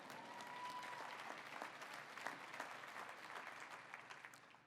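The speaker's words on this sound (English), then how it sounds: "I'll take the applause for that." Audience applause at a charity gala honoree speech, a steady even patter of many hands clapping at moderate distance, filling the room without pause.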